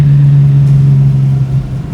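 Loud, close engine note from a 550 hp 1963 Ford Falcon race car, a sustained deep roar that holds steady and wavers slightly near the end, with no voices.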